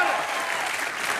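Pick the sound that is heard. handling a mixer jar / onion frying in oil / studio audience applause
studio audience applause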